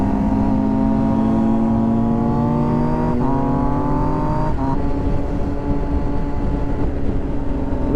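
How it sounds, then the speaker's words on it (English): A commuting motorcycle rides past on a Southern California road, its engine note loud and close, rising in pitch and then shifting as it goes by, with steady road noise throughout. "There you go, commuting motorcyclist."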